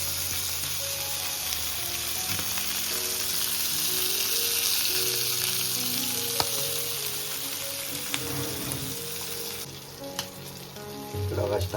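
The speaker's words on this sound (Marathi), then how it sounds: "दाबले ना फटफट फटफट आवाज येतो, डोल्या बिल्या बी उडायची शक्यता असते" Fish stuffed with gaboli, fish roe, frying in hot oil with a steady close sizzle, occasional sharp pops and the scrape of a turner against the pan.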